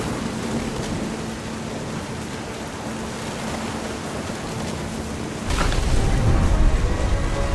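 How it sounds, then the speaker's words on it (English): A thunderstorm with rain in the video game What Remains of Edith Finch: a steady hiss of heavy rain, then a deeper, louder rumbling surge of thunder and wind. "The thunder sounded much too close and full of angry power."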